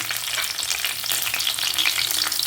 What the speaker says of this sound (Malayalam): ഇതൊന്നും അങ്ങോട്ട് എണ്ണയിൽ കിടന്നിട്ട് നന്നായിട്ട് പച്ചമുളകൊന്ന് മാറി വരട്ടെ